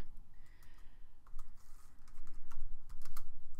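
Fingers type on a computer keyboard in quiet, irregular clusters of keystrokes, close but soft, with no talking.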